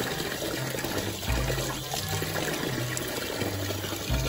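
Water pours and splashes steadily over a dog outdoors, a continuous close liquid rush with some faint background noise and no talking.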